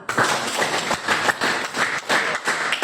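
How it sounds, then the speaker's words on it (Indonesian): Students in a junior high classroom clap their hands in a rhythmic, patterned sequence, sharp bursts of clapping repeating roughly every half second, close and fairly loud. "tepuk tangan untuk kamu"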